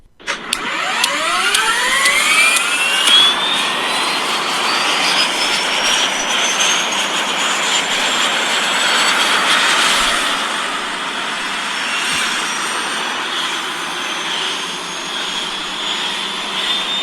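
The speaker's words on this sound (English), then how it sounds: "As soon as they both got into the helicopter, they shut the door and Batman starts her up." A helicopter engine starts up with a steadily rising turbine whine that climbs in pitch over the first seconds, then settles into a loud, constant roar with no talk.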